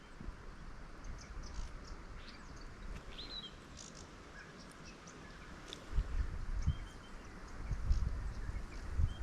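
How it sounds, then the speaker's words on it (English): Several woodland birds, including weebills, thornbills, grey fantail and golden whistler, give faint scattered high chirps and twitters over a low rumbling background that swells in the second half. "There's a few birds calling"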